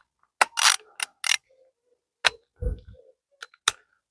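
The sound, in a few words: ratchet wrench turning engine head bolts by hand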